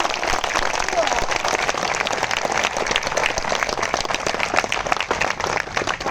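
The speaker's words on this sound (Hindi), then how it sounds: "आपकी कमजोर तालियों के लिए बहुत बहुत धन्यवाद।" A crowd at a hunger strike protest applauds steadily, a dense, loud wash of many hands clapping that carries on without a break.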